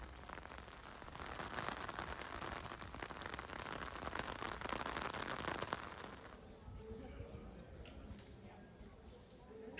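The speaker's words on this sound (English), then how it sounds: "We hit a short rain shower" A short rain shower patters densely and steadily on the streets of Kotor, Montenegro, a close, hissing wash of drops that abruptly thins to a softer, sparser drizzle toward the end.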